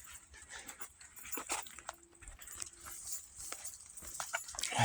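Corgis on a hiking trail whimper and pant softly in short, broken bursts, mixed with light footsteps and rustling at a moderate distance.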